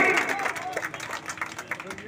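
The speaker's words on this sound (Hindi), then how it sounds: "जोरदार ताली।" Applause and clapping from an audience at a village yajna committee stage program honoring artists, a steady broadband patter sustained throughout with a voice faintly mixed in.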